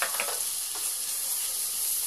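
Chilli powder, garam masala and coriander powder roast in a pan for paneer makhani, giving a steady, close, bright hiss of sizzling with a brief stirring scrape near the start and no talk.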